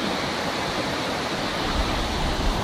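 Pala-U waterfall in tropical rainforest, a dense unbroken roar of cascading water close by, growing slightly heavier in the low end toward the end.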